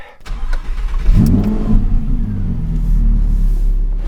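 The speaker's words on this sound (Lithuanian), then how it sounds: "Pabandysim užvesti automobilį dabar." A 2020 Audi R8 V10 engine cranks and fires up close by, then revs in a deep, loud growl before settling into a steady, rumbling idle.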